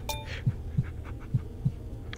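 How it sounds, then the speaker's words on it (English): Heartbeat in a Roblox horror video game, a low, steady thumping pulse of four soft beats, faint under a quiet ambient hum. "The heartbeat means it's close, I'm guessing."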